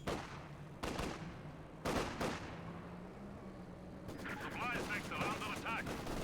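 Bursts of machine gun and artillery-style gunfire from a Company of Heroes 2 match, sharp volleys at intervals followed by a denser rattling stretch, heard under a commentator's voice.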